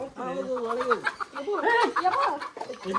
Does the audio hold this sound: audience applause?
no